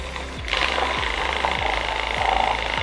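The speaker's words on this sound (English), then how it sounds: "Also, my frother's broken. That's why it sounds like this." Broken drink frother whirring in a cup of water, a close, rough motor buzz with a rhythmic low knocking that repeats about every half second for under three seconds.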